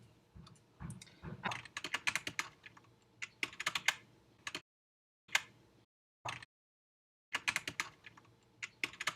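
Rapid clicking keystrokes on a computer keyboard while a username is typed, in bursts separated by short silent pauses, close and fairly quiet.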